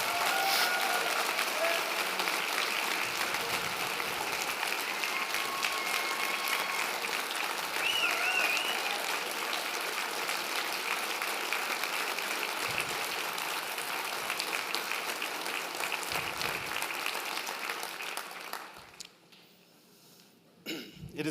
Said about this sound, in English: Can you please give Gretchen a round of applause?